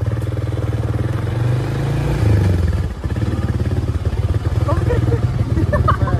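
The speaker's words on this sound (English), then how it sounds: "We on the four-wheeler." A four-wheeler ATV engine runs steadily at close range with a low, continuous drone and some clatter, the pitch shifting briefly midway; people talk over it.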